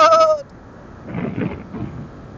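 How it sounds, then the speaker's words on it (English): Goats bleating outdoors in a hillside neighborhood, a few rough, wavering calls at moderate distance following a brief tonal sound at the start. "There's some goats."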